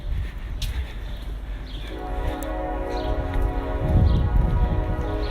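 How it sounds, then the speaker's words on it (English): A distant train in downtown Decatur sounds a long, steady horn that swells gradually, with a low rumble of rail traffic building underneath and no talking. "you can hear the train off in the distance"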